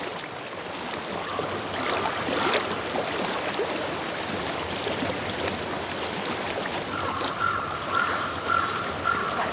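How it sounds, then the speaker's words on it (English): Continuous rushing water flows steadily in a video game, like a stream close by, with a faint tonal hum entering near the end. "I hear water."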